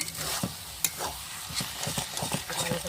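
Spoon stirring a mixed leafy greens curry in a pan, with repeated scraping knocks and a soft sizzle underneath, close and moderately loud, no talking.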